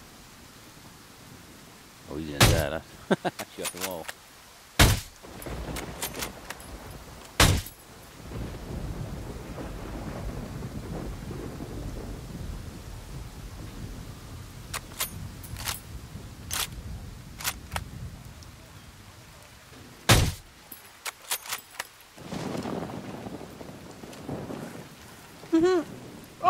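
Rain and rolling thunder in the Ghost Recon game, a steady wash of rainfall broken by several sharp loud cracks, with players talking over it.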